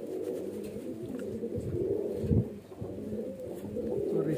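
Highflyer pigeon cooing nearby, soft low repeated throaty coos in a steady rolling rhythm, with a louder burst midway.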